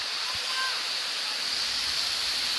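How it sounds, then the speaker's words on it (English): Steady broadband rush of falling water at Wentworth Falls, a continuous loud roar filling the whole stretch with no breaks. "So yeah, you can see the water running."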